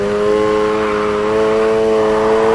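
Car engine in Need for Speed Heat revving loudly as the accelerator is held down, a strong steady tonal hum that rises slightly in pitch, close and alone with no talk.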